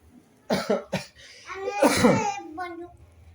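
A child coughs a few short, dry times, then speaks briefly afterward; close and fairly loud against a quiet background.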